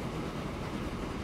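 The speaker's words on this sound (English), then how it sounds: "This little shunt train going back and forth." A small shunt train in the Transport Fever game rumbles steadily along the rails, a continuous even rolling noise with faint clickety-clack, unbroken for the short stretch.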